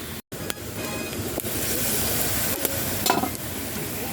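Native chicken sizzling and frying in a covered pan while making tinola, a steady dense hiss broken by a few sharp spatters and clicks, with no voices.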